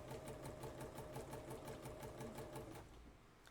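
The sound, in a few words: sewing machine stitching a zipper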